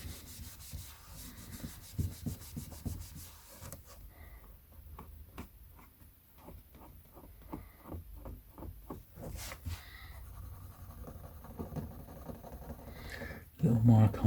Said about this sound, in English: I'm just scraping off with my finger now.